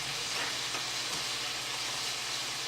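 Zucchini boats frying in a pan give off a steady, close sizzle with crackling that stays even throughout.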